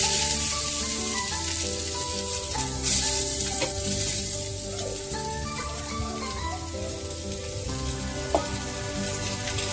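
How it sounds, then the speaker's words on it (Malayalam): Chopped onion sizzles and fries steadily in ghee and mustard oil, a dense continuous crackle with faint stirring scrapes and a few sharper spits, close up and without any talking. "അടുത്ത നമുക്ക് സവാള ഇടാം"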